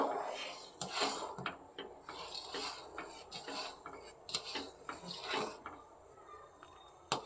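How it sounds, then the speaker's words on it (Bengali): Payesh, a rice pudding, cooking in a pot in the evening, with irregular metallic clinks and scrapes of a spoon against the pot, close by and fairly busy. "দেখো এখন পায়েস রান্না করছি"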